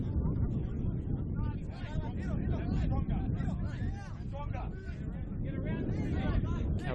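Gusty wind buffets the microphone at an outdoor football match, a loud continuous rumbling roar with a commentator talking over it throughout.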